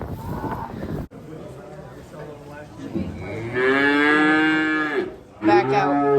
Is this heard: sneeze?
no